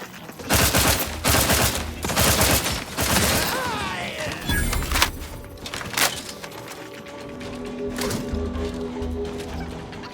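Gunfire in the video game The Outer Worlds 2 comes as a loud run of rapid shots and booming impacts in the first half, then fainter single shots spread over a game soundscape with some talk.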